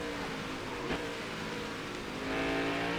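NASCAR Next Gen race car lapping the Watkins Glen road course in the NASCAR Heat 5 game, a steady high engine whine that rises slightly toward the end, with no voices.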